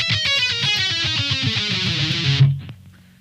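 A bright electric guitar intro riff, quick repeated notes in a steady pattern, ending with a low sustained note that fades out.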